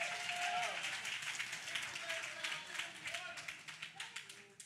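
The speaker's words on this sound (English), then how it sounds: "Clap your hands about it." A community audience at an outreach session claps, a dense patter of many hands that swells, then thins into scattered separate claps as it fades, with a voice speaking briefly under it.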